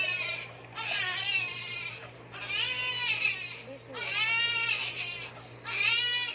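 A baby cries nearby in four long, wavering wails separated by short breathy pauses, loud and distressed, with a faint low hum underneath.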